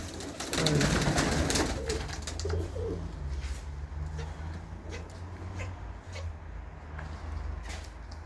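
Racing pigeons coo in a loft, a low throaty burble repeating close by, with a louder flurry of rustling near the start and faint clicks and knocks scattered throughout.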